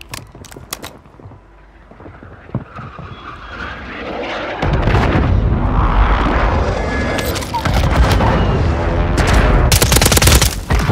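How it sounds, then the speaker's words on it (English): Call of Duty gunfire: scattered sharp shots at first, then dense sustained automatic fire with booming impacts and a roaring aircraft-like wash, growing loud and chaotic, with a voice speaking over it. "Taking fire!"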